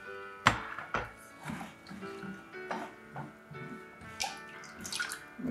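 Water is poured into a bowl of potato starch as it dissolves, part of making a vegan, lactose-free chandelle dessert; soft splashing and dripping come in several short bursts, close and moderately quiet.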